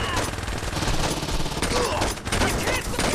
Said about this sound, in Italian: Sembra Star Wars come sparano.